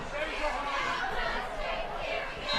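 A high school football crowd in the stands roars and cheers steadily as the home side trails late in the half, with a broadcaster talking over the noise.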